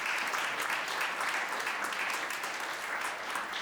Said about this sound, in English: I want to give a major round of applause to all of them.